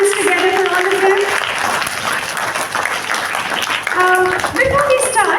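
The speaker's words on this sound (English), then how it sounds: "Big round of applause to all of them." An audience applauds at an English declamation event, steady clapping filling the room throughout, with voices and cheers mixed into the crowd noise.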